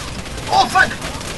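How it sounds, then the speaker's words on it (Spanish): An ammunition crate blows up in Far Cry 2, setting off two quick, sharp popping bursts close together, like a crackle of gunfire, over a low background rumble. "La caja de munición explotó."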